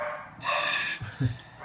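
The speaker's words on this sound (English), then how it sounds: "Excuse the dog." A dog gives a couple of short, muffled barks and yips in the background indoors, fairly faint.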